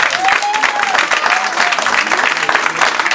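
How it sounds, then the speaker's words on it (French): Audience applause at a live acoustic zouk concert, a dense, sustained burst of many hands clapping with crowd noise and a faint tone running beneath. "j'aimerais que vous, s'il vous plaît, applaudissez Monsieur Dédé Saint-Prix"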